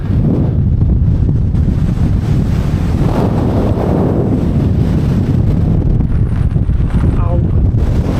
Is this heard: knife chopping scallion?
no